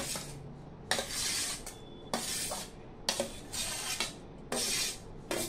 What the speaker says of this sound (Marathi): आपण हे सगळं टाकून घेणार आहोत। काकडी, मिरच्यांचे तुकडे, कांदा, टोमॅटो